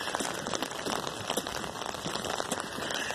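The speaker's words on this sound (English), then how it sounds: "Raining. I got my rain boots." Outdoor rainfall on a walk to the corner store, a dense, continuous patter of drops hitting nearby surfaces, loud and even throughout with no speech.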